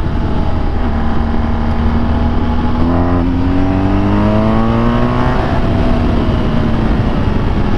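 A BMW R1250GS motorcycle accelerating hard in third gear in dynamic pro mode, its engine note climbing steadily in pitch, loud and close over heavy wind rush, with no talk.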